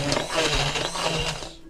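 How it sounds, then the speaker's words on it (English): A hand blender chops cooked apples for apple butter, giving a steady, loud motorized whir that runs evenly for nearly two seconds, then cuts off abruptly at the end. "I'm going to break out my hand blender, and now I'm going to chop this fine."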